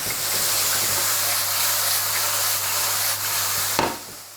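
Mushrooms, onions and garlic frying together in a pan give a steady, close sizzle with a constant hiss, ending in a brief clatter.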